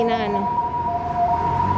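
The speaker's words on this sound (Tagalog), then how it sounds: "may ambulansya na naman" An ambulance siren wails steadily on a Taipei City street, loud and continuous over traffic rumble, with a voice briefly heard at the start.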